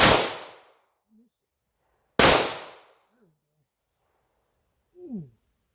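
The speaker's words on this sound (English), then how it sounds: "I'm going to shoot that jug over there." Two loud, sharp pistol shots from a PSA Dagger fired at a jug on an outdoor range, each followed by a short decay, with brief faint chatter afterward.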